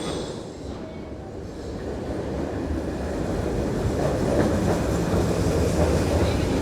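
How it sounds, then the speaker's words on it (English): A tram on metre-gauge tracks in Belgium rolls in on rails with a steady low rumble and clatter that grows slightly louder as it approaches, no voices. "Here comes my first tram."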